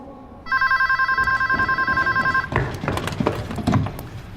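A telephone rings in a steady electronic trill for about two seconds, loud and close, then stops. Handling knocks and thumps follow.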